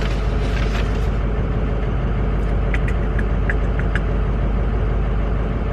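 A Ford 6.0 Powerstroke diesel runs steadily after injector repair, a loud, constant engine drone that stays even throughout, with a few faint clicks on top.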